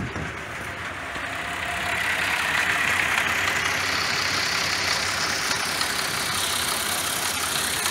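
A Cadillac 2.8/3.6 V6, freshly repaired after an ignition coil pack fault, idles evenly with a steady, smooth hum that rises slightly in level early on and then holds constant, with no speech.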